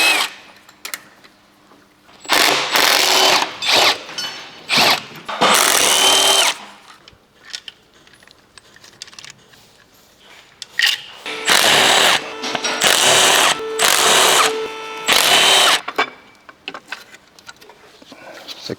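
A power tool removes cylinder head bolts from a wrecked Audi R8 V10 engine during a rebuild, with loud whirring bursts in two clusters separated by quieter pauses.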